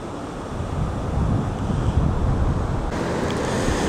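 A Texas Gulf coast beach with fine sand, where wind roars across the microphone over the steady wash of surf. The sound is a continuous, fairly loud rush with no voices.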